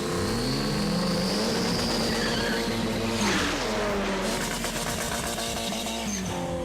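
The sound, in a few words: Saab car engine revving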